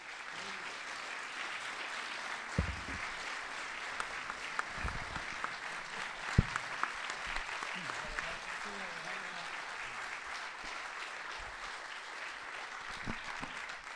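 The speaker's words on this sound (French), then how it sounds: "Je vous demande de l'applaudir." An audience at an international comics festival applauds guest cartoonist Dan Clowes with a long, steady round of clapping that stays even throughout, a few sharper claps and faint voices rising from the crowd.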